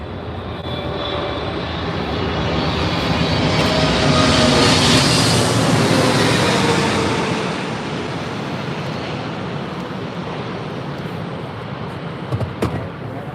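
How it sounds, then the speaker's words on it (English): A China Airlines Boeing 777 jet airliner roars past at LAX, a loud broad engine rush that swells toward the middle, then fades to a steady distant rumble, with no talk. "Could be China Airlines 777."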